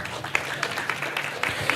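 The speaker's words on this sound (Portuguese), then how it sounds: "Uma salva de palmas." An audience at a panel on bioeconomy financing applauds, giving a short run of moderate, uneven clapping from a mid-sized crowd.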